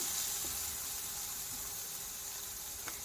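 Green chillies, garlic and ginger frying in hot oil for paneer bhurji, a steady, fairly quiet hiss of sizzling that holds evenly throughout with a faint tap or two, no talking.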